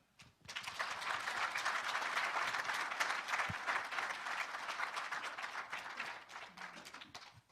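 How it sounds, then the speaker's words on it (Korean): Sustained audience applause at a Korean lecture on meeting and communication skills, a dense wash of clapping from a sizeable crowd that swells quickly, holds steady for several seconds, then tapers off near the end. "여러분들에게 존경의 박수를 보내드리도록 하겠습니다"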